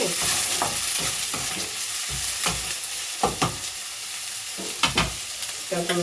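Onion frying in a pan with chopped ginger and garlic, a moderate sizzle punctuated by sharp, irregular spatula scrapes and knocks against the pan, close and without speech.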